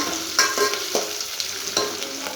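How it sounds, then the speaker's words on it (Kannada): Onion and green chillies frying in a generous amount of oil for a tempering: a steady close sizzle with a few soft stirring scrapes of a spoon through the pan, no talk. "ಈಗ ಈರುಳ್ಳಿ ಹಸಿಮೆಣಸಿನ್ಕಾಯಿ ಒಗ್ಗರಣೆಗೆ ಹಾಕಿದ್ದೀನಿ"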